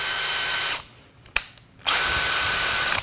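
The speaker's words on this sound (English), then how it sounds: "this slower setting could drill through much harder wood because it's stronger" A power drill on its slower, stronger gear spins in two steady whirring bursts with a sharp click between them. The motor sounds loud and close, with no talking.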